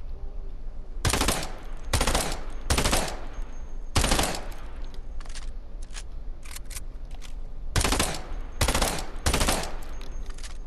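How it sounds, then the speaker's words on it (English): Rapid bursts of video game gunfire, several loud automatic volleys in quick succession over a steady game background, with a pause between the groups of shots. "Great, someone's trying to shoot me."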